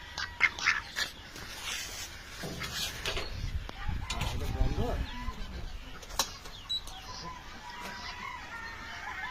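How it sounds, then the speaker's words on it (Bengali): Ducks and other poultry quack and cluck in a noisy, busy duck farm during a sale delivery, with people talking and handling noise nearby throughout. "আজকে হাঁস ডেলিভারি হচ্ছে"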